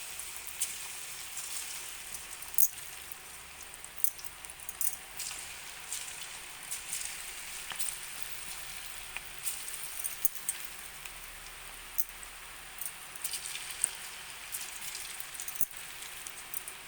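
Potato pakoras fry in hot oil in a kadai, giving a faint, continuous crackle and patter with scattered sharper pops, steady throughout and with no voices.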